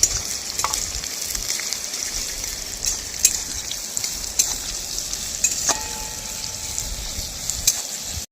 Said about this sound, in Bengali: পেঁয়াজটা আমি দিয়ে দিচ্ছি কড়াইয়ে